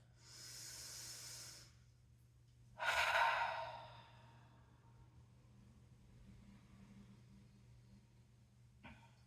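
Two slow, deep breaths during yoga practice: a long airy inhale followed by a stronger, breathier exhale, close and alone over a low steady hum.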